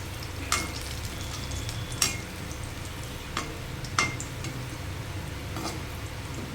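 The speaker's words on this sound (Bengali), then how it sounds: "এবার সাদা তেল কড়াই গরম করতে দেবো, দিয়ে এটাকে এবার ভেজে নেব" Palm fritter batter fries in hot white oil in a wok, giving a steady sizzle close up, broken by several sharp clinks and scrapes of stirring.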